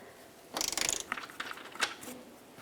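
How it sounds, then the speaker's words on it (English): Ratchet clicking as it loosens strut mounting nuts on a 2006-2012 Toyota RAV4, a quick burst of close, sharp metallic clicks followed by a few scattered ticks, no talking. "then I slide my ratchet in there, generally I can at least get the majority of the tip of my ratchet onto it"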